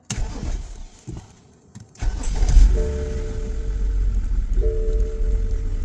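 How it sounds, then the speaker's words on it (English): A 2011 BMW 528i is started: a few clicks and a pause, then the starter engages and the engine catches into a low, steady idle with a faint whine, close by, running rough. "Now I'm going to turn it back on and start the vehicle."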